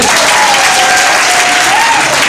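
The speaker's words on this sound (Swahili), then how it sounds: "Mpigeni makofi." Audience applause at a CCM political rally, a dense, steady clapping that stays loud from start to finish, with a thin whistle-like tone running through it.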